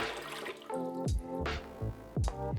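A cocoa fiber brick is lowered into water, giving splashy gurgling and bubbling pours in a few surges, close and moderately quiet with no talk.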